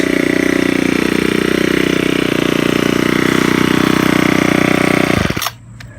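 A Ryobi 4-cycle gas trimmer engine runs right after its first start with a loud, steady, buzzing idle up close, then cuts off abruptly near the end.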